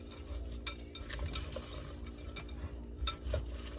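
Food being carefully mixed in a slightly too-small bowl, with soft scraping and a few sharp utensil clinks against the side, steady and close, no voices.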